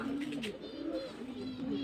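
Pigeons kept at home coo softly and repeatedly, low rolling calls close by against a quiet background, with a few faint higher chirps in between.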